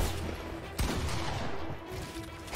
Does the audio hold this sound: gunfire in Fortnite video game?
yes